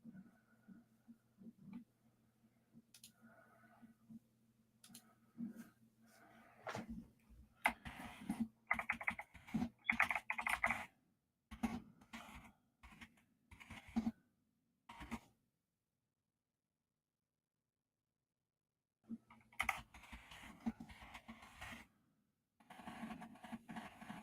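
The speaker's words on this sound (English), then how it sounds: "you can actually hear the clickety clack of my keyboard" A computer keyboard is typed on late at night in quiet, close, dense bursts of clicks and clacks, with short pauses and a long silent gap midway through.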